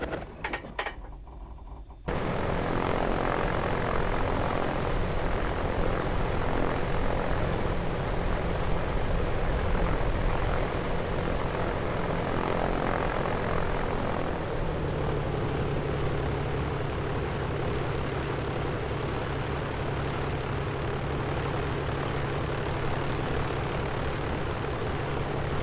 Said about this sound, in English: So we'll just stop here and turn off the airplane